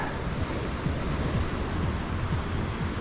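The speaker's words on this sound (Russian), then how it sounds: "такая тут обстановочка на море, на пляже." Sea waves washing onto the beach at Yalta, a continuous hiss of surf with soft repeated low swells and some wind buffeting the microphone, with no voices.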